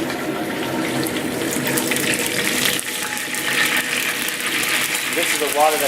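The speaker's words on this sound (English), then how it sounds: "Then we put the salt water." Salt water drained from feta is poured into a shrimp dish made with honey, giving a steady splashing, gushing stream of liquid close by, and a voice speaks over it near the end.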